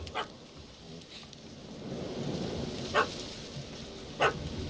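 A dog in The Witcher 3 barks at a cat up a tree, a few sharp separate barks at moderate distance over a low ambient game bed.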